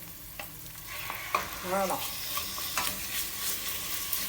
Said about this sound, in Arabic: هنايا حطيت البصله هاي تتقلى مغرفه الزيت